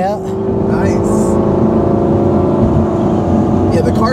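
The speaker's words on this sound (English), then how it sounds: "You hear the backfire?" 2004 Lamborghini Gallardo idling as it warms up, a loud, steady engine drone close by, with voices talking over the start and end.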